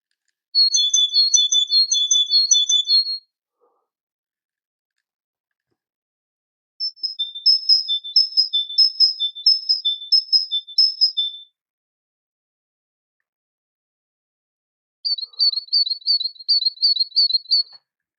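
A Malaga canary sings in three separate bursts of rapid, high trills and chirps, each phrase set apart by stretches of silence.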